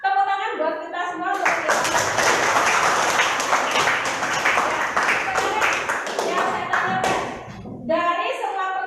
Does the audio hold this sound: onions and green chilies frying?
no